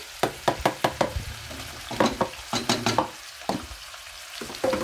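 Carrots and capsicum being fried in a pan for chicken biryani, a run of sharp rhythmic knocks and scrapes from stirring over a soft sizzle, loud and close, thinning out toward the end.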